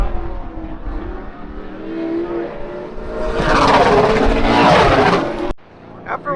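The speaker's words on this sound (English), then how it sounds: "we're out here watching qualifying for the trucks right" Race trucks roar around Citrus County Speedway during qualifying, a loud engine rumble that swells into a sustained full-throttle howl for a couple of seconds before cutting off abruptly.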